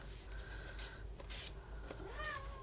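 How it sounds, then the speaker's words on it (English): An indoor house cat gives several close meows in a row, separated by brief rustling and rubbing sounds, with no voices present. "Can you guys hear my cat meowing?"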